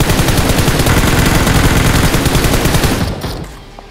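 Rapid automatic gunfire in the BGMI PUBG Mobile battle royale game, a loud continuous burst of closely spaced shots that stops abruptly near the end, leaving a brief fading tail.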